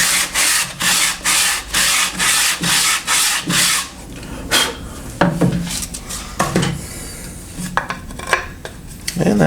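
A table saw cuts a slot in a wooden jig piece for a paracord bracelet, the workpiece held by hand: a run of even, rhythmic bursts of blade noise, then scattered scraping and knocking as the wood is shifted, with no talk.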